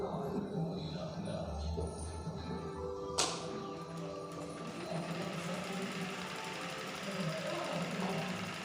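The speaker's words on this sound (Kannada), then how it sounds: "ಮಿಕ್ಕಿರೋ ಫ್ಯಾಬ್ರಿಕಲ್ಲಿ ಫ್ರಿಲ್ಸ್ ಮಾಡ್ತಾ ಸ್ಟಿಚ್ಚನ್ನ ಕಂಟಿನ್ಯೂ ಮಾಡಿ" Domestic sewing machine stitching frills onto baby frock fabric, running steadily and close up for the full stretch with a sharp click near the middle.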